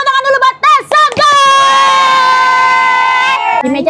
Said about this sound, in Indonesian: Tepuk tangan dulu buat Teh Santi.